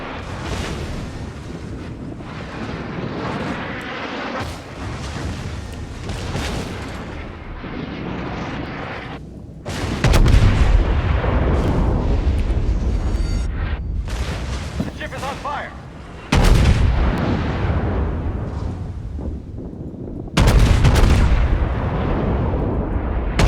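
Naval gunfire in World of Warships aboard the battleship USS Texas: heavy booming salvos strike at three spaced moments over a constant roaring rumble of wind and battle noise, loud and close.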